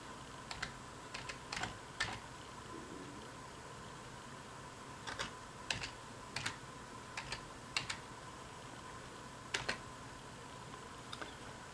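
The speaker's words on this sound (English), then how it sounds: "Now you can go over here and type in ukulele." Typing on a computer keyboard while searching Facebook Marketplace for a ukulele: quiet, scattered bursts of key clicks in short irregular clusters over a steady low room hum, with no talk.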